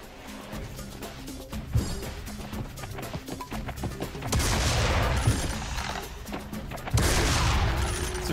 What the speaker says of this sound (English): It's a really nice double shotgun here.